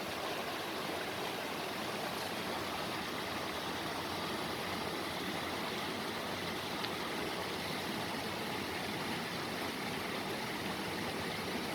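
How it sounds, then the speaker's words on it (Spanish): Water flows steadily through a small stream beside chayote plantings, a soft continuous rushing hiss that stays even and fairly quiet for the whole stretch with no voices. "Aquí se ve cómo está pasando agüita"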